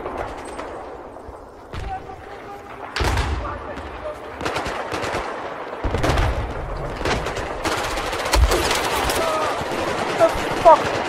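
Gunfire in the multiplayer shooter Battlefield 4: a busy mix of automatic bursts and single heavy shots with booming impacts, irregular and fairly loud, with a player talking over the action.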